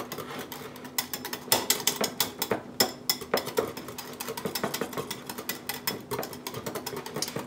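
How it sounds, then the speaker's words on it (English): A whisk beats a shallot seafood dipping sauce in a bowl, giving a fast, steady run of light clicking and scraping taps that carries on without pause and with no voices. "Let's just whisk this up really good."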